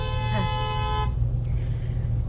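A car horn blares in a steady, harmonic tone for about a second, then cuts off, over continuous low road rumble inside a vehicle.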